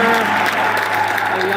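Church congregation applauding during a New Birth Church sermon, a steady loud wash of clapping filling the whole moment, with voices and crowd noise mixed underneath.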